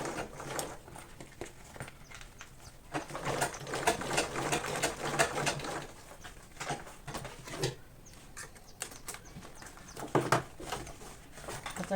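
A sewing machine top stitching a fabric school bag, running in uneven bursts of rapid clattering with brief pauses, fairly quiet and close, with some handling noise of the material.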